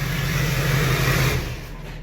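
A Duramax diesel engine idles just after its first start-up, giving a steady, close, low drone that eases slightly toward the end.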